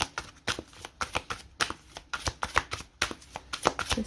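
A deck of tarot cards shuffled by hand in quick, steady riffling bursts, close and fairly quiet, with soft papery flicks repeating throughout and no talk.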